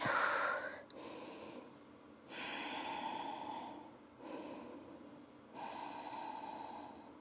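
During a yoga child's pose, slow breathing rises and falls in long, soft, airy waves, each inhale or exhale lasting a couple of seconds with brief quiet gaps between them, close and gentle.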